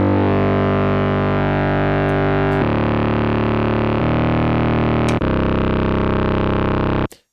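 Heavy distorted bass synth patch built from a sine wave with phase distortion in Arturia Pigments, a loud sustained droning tone held in several long notes with abrupt changes, cutting off at the end.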